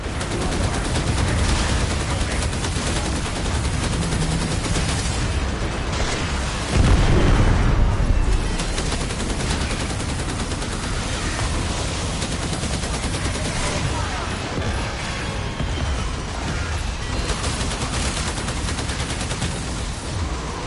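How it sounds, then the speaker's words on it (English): Warframe space battle with a full salvo of warheads and gunfire, a dense, unbroken roar of blasts, booms and rapid shots lasting throughout, with a heavier surge of explosions partway through. "Arm the warheads. Fire full salvo."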